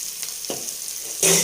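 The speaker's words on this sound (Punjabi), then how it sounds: "ਇਹ ਤਾਂ 1 ਮਿੰਟ ਦੇ ਵਿੱਚ ਜੀਰਾ ਭੁੰਨਿਆ ਜਾਂਦਾ" Cumin seeds roasting in a hot pan for kadhi, with a soft continuous sizzle, a brief stir around the middle and a louder burst of frying near the end.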